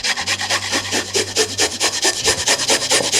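A large garlic clove is rubbed against a grater in steady back-and-forth strokes, each pass a dry rasping scrape repeating quickly and closely over about three seconds with no talking.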